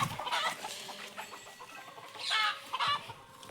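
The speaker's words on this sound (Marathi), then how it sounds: "ते कोंबडी आता बाहेर निघणार सर्वेचे सर्वे." Domestic hens being let out of their coop on a family farm cluck and chatter in short, overlapping bursts at close range, with quieter pauses between the louder calls.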